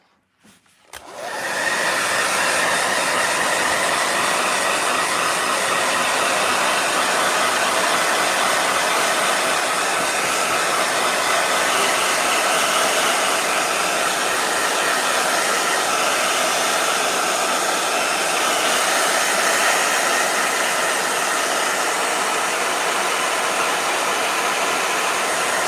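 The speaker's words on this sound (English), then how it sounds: "Blow dryer." A blow dryer drying paint on a hair journal page, running as a loud, continuous whir from start to end after a brief quiet moment at the beginning.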